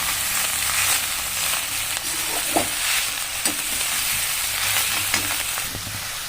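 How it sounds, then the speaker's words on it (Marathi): Amaranth greens (rajgira bhaji) frying in oil in a pan over a lowered gas flame, a continuous sizzle with occasional stirring knocks and scrapes, close and fairly loud, with no voices. "आता गॅस कमी करा आणि ती तेलामध्ये ही भाजी भाजून घ्या।"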